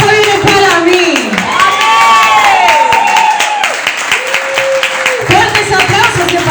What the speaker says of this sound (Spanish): Fuertes aplausos para el Señor